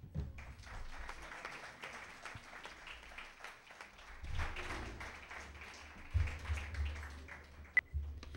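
An audience applauds speakers at a psychology conference panel, steadily for several seconds, a dense patter of many hands clapping, fading slightly with a couple of louder thumps near the end.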